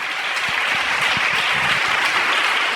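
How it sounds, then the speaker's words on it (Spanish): A church congregation gives a strong round of applause during a service. The clapping is dense and steady, close and loud, and lasts the whole stretch with faint low rumbles underneath. "Dale un fuerte aplauso al Señor en esta tarde."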